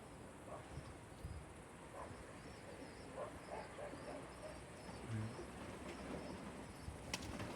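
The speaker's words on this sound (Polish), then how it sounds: "Jeszcze, jeszcze schodzą to gołębie." Soft cooing of Polish Orlik pigeons amid a busy outdoor background, with faint bird calls and scattered noises, fairly distant and low in level.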